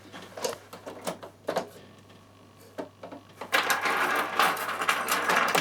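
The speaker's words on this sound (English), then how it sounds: "On an overlocker, this is the finish you're going to get. Okay, and this is the speed you're going to get." Bernina overlocker stitching linen, short scattered bursts of mechanical chatter that settle into a fast, continuous rattling run, close and fairly loud.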